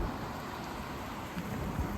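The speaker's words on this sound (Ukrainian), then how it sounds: "дощик такий накрапав конкретний" Light rain patters down during a ride in a Sunrise Quickie Q700M electric wheelchair through fields, a dense, steady hiss of drops close by with no voices.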